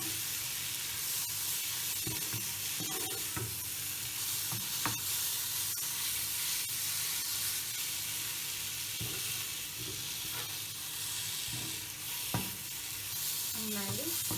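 Chopped tomato being stirred into sizzling chicken roast masala in a pan, a constant loud frying hiss with repeated scraping strokes of the spoon throughout.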